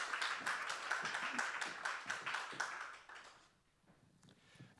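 A live comedy audience claps to welcome comedian Nicci Take on stage, a few seconds of moderate crowd applause that fades out and leaves quiet room tone.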